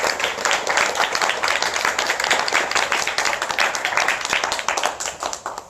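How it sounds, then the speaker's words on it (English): Steady applause from an audience at an evening food justice panel event, dense clapping sustained throughout before tapering off at the end. "if we could give a round of applause for all of our panelists"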